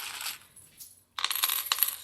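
Coins dropping and clinking onto a surface while being counted, a burst of jingling metallic clatter at the start and a denser run of bright clinks after a short pause, close and fairly loud.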